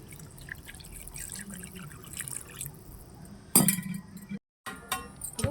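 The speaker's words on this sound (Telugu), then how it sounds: "ఇప్పుడు తగినంత వాటర్ వేసుకోవాలండి ఇందులో" Water is poured into a pot of fish curry, giving a short splashing gush after a few seconds of light clinks and drips, close and quiet.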